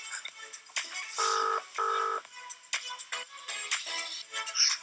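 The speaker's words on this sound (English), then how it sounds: "I'm going to phone my girlfriend, let her know the good news." Telephone keypad being dialed: a quick scatter of short key tones, then two longer steady dial tones, followed by more brief taps, all fairly quiet and with no talking.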